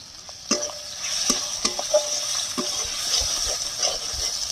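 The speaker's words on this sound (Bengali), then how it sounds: "এবার এটাকে ভালো করে কষিয়ে নিতে হবে, মশলার সাথে ভালো করে কষিয়ে নিতে হবে।" Banana flower being stir-fried with spices and grated coconut in a pan, a steady sizzle broken by repeated sharp scrapes and taps of a spatula stirring, close and fairly loud.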